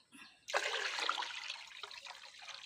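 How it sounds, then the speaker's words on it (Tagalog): Coconut milk is poured into a container for virgin coconut oil fermentation, giving a close, steady splashing gush that starts abruptly after a faint trickle and continues with bubbling, no talk. "Sabay ilalagay na natin yung unang gata."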